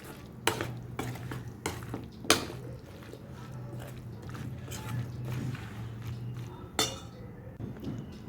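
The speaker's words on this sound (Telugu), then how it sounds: "కొంచెం కొత్తిమీర వేసి అలా కలిపేసుకుని సర్వింగ్ బౌల్లోకి తీసేసుకోవడమే" Cucumber chutney being stirred with coriander in a bowl, soft wet scraping and mixing with a few sharp clinks of a spoon against the vessel, close and fairly quiet.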